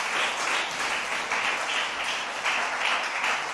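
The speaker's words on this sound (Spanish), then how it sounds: "Mire, denle un aplauso al Señor," A church congregation applauds during a Spanish-language sermon in London, a dense, steady wash of many hands clapping at moderate volume for several seconds, with no voices standing out.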